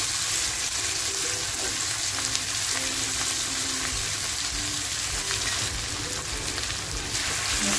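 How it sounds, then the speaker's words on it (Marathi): Ground masala frying in hot oil in a small kadhai, a loud, dense, continuous sizzle with steady crackling throughout and no talking. "आणि तो कुटलेला मसाला मी या तेलामध्ये टाकते बघा। तेल छान तापलंय।"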